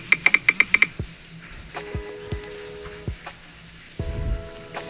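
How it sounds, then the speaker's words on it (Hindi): Phone touch-keyboard key sounds: a quick burst of six crisp taps, then slower scattered clicks spaced out over the following seconds. "मेरा कीबोर्ड पे साउंड भी सुनाई दे रहा और कीबोर्ड वाइब्रेट भी कर रहा"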